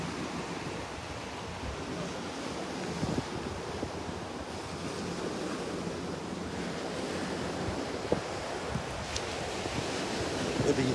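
Ocean surf rolls onto the beach beside Naples Pier on a morning walk, a steady broadband wash of waves with wind buffeting the microphone throughout, no clear speech.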